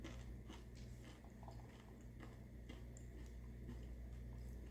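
Crisp crunching bites of a crunchy seaweed snack, close to the mic, repeating irregularly over a steady low background hum.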